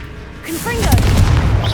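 Confringo blasting spell in Hogwarts Legacy: a loud close explosive boom with a rushing magical burst and rumbling tail, after a short whooshing cast.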